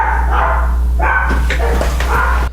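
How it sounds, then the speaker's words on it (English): Dogs barking indoors at home, a few close, loud barks and yips over a steady low hum, no talking. "I'm just really hoping that my dogs stop barking sometime soon"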